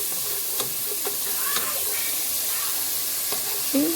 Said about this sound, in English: the garlic and the onions first because I want them to cook down more